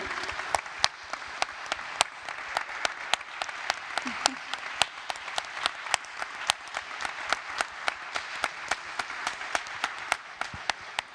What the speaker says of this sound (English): Maybe we say also a big applause to you.